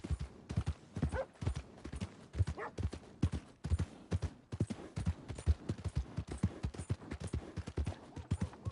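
Rapid, steady clip-clop of horse hooves in a video game, close and loud, trotting continuously with a brisk, even rhythm.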